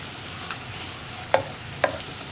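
Ivy gourd (kovakka) frying in a pan for a Kerala mezhukkupuratti stir-fry, a steady low sizzle with two sharp spatula clinks against the pan, no talking.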